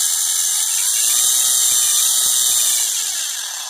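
Brushless motor of a toy-grade RC dragster on a 3S battery, whining loud and close at partial throttle, a steady high-pitched electric scream held for several seconds before easing off slightly.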